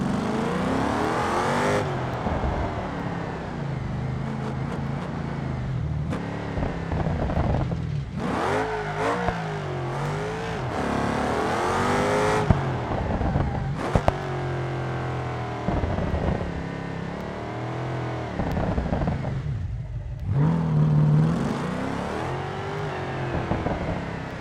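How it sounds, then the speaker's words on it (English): A simulated car in the driving game BeamNG, set to TT Sport Plus mode, revs and accelerates with its exhaust opening up, engine pitch rising and falling through repeated gear pulls, loud and close, with no talking. "Hear that exhaust open up a bit."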